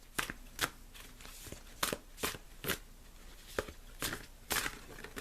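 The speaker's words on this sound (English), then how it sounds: "Shuffling again." Tarot cards are shuffled by hand at close range, a soft series of quick papery riffles and flicks in irregular bursts, quiet and alone without talk.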